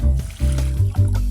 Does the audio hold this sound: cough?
no